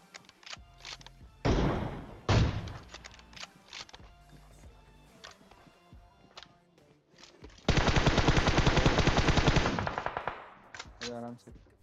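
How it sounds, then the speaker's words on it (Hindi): M4 rifle gunfire in the PUBG Mobile video game: scattered single shots and short bursts, then a long sustained automatic burst, loud and close, followed by a few quick trailing shots. "यहाँ पे मैं एम फोर चला रहा हूँ बंदा नॉक हो रहा है"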